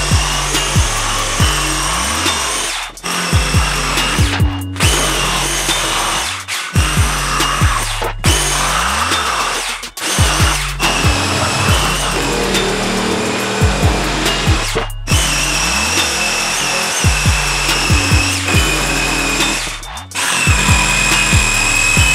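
A power tool bores into material during a DIY studio build, a loud, continuous, grinding whine broken by several brief pauses and restarts, with no talk over it.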